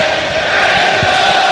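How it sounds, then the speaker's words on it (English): Home football crowd in the stands at a Northampton versus Wimbledon match, a loud, broad roar of massed voices singing and chanting together, steady and distant-sounding. "we can now hear the hymns and arias booming down from the stands here"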